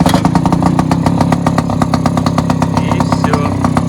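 A Mercury 3.3 two-stroke outboard motor runs on choke at idle, a loud, close, steady buzzing putter with rapid rattling firing pulses throughout.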